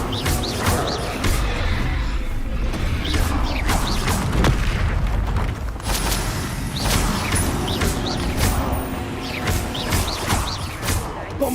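Bombarda blasting spells explode again and again in Hogwarts Legacy, a rapid series of loud, booming blasts and crashes every second or so over continuous game noise.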